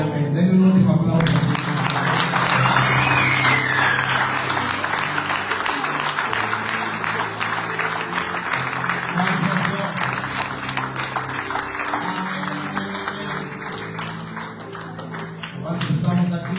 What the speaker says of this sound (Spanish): Denle un último aplauso.